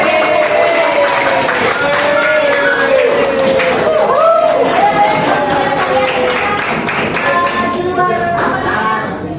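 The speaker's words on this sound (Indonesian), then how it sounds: "Tepuk tangan dong" A class at SMA Taman Madya 1 Jakarta applauds classmates, a burst of many hands clapping with a teacher's voice talking over it throughout.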